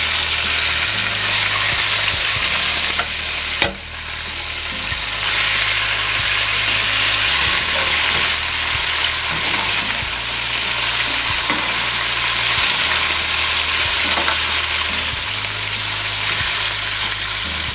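Blue snapper fish steaks fry in a hot pan with a loud, steady sizzle that runs continuously, close up, with occasional faint clinks of a utensil.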